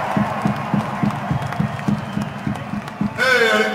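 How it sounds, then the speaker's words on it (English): A large arena crowd at a metal concert claps and cheers in a rhythmic, pulsing roar, with a shouted voice rising over the noise near the end. "this big applause to all the parents of the 90s"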